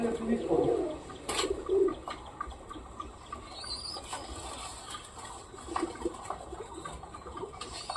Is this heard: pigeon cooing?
yes